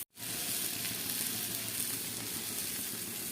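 Mankochu (giant taro) frying in a pan with dry red chilli paste gives a steady, dense, close sizzle that holds evenly throughout after a brief silent start, with no voices.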